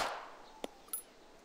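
Gunfire in the survival game DayZ: a few sharp, separated shots crack out over quiet background, with faint pops early on and a louder, closer blast at the very end.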